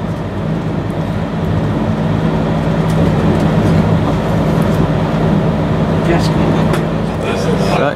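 A train pulls away from Wakefield Kirkgate station toward Doncaster, its loud, steady cab rumble and engine drone carrying close throughout, with a few faint high clicks.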